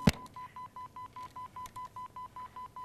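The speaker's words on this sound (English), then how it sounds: "What is that beeping? Did I not hang the phone up?" A landline telephone left off the hook beeps in an even, rapid series of short identical tones after one sharp click at the start, fairly faint and with no talking.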